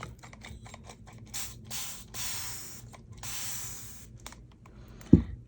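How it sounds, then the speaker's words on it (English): A spray bottle spritzes ink onto embossed paper in several short, close hissing bursts separated by brief pauses. A soft knock follows near the end. "Spritz on the front."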